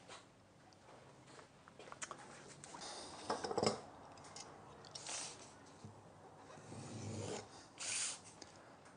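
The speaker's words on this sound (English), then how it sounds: "I'll just test it on a bit of paper." A freshly sharpened hand plane blade slicing through a piece of paper gives a few brief, dry, crisp cutting and rustling sounds, fairly close and quiet, with small pauses between strokes.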